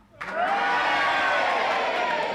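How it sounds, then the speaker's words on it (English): A studio audience at a panel game show erupts in sudden loud cheering and whooping after a short silence and keeps it going, a dense, sustained roar from the whole crowd. "will you please cheer?"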